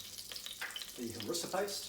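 Cumin and cinnamon seeds sizzle gently in olive oil warming over low heat, a soft steady crackle that swells midway with stirring scrapes, with a brief spoken phrase over it.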